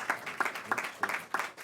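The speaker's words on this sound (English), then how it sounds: "Nice round of applause." A small audience claps at a Senate Environment and Public Works Democrats event, the individual claps landing in a loose, fairly steady rhythm, moderately close and without talk.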